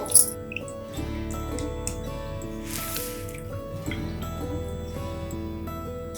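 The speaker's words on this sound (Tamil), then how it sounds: "இந்த மருந்தை நாம இப்போ வடிகட்டிடலாம்." Thick, gooey homemade herbal medicine is strained, giving soft dripping and squishing liquid sounds over a steady background hum, with no speech.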